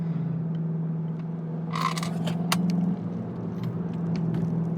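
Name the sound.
2020 Volkswagen Jetta GLI engine in sport mode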